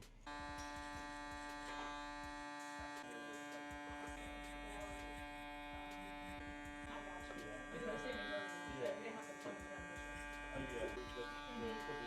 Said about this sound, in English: So we're gonna go with the clipper lever closed all the way and create our first line.